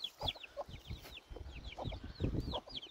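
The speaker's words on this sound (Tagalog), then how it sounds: "Ay, ito pala chickens dito." Several chickens cluck and murmur close by on a ranch, with chirpy bird calls scattered over the top in a busy farmyard mix.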